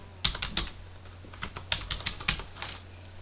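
Rapid, irregular clatter of keys as code is typed on a computer keyboard, bursts of clicks close up and moderately loud with short pauses between, no voices.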